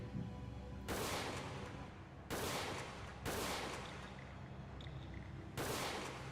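Gunfire in a PS2 demo disc shooter, four separate loud bursts of rapid shots, each sustained for about a second or more, with steady noisy rumble between them.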